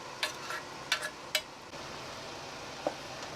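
A utensil clinks against a pot while tinned squid is stirred into a squid ink pasta sauce, giving a few quick close taps followed by a soft, quiet simmer.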